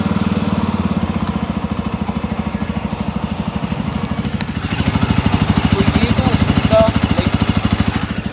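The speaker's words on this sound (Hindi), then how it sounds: "उससे पहले मैं आपको एक बार एग्जॉस्ट नोट सुना देता हूँ।" A 2023 Jawa 42 motorcycle idling and blipped briefly, its exhaust giving a close, loud, steady thumping beat that swells in the middle before settling again.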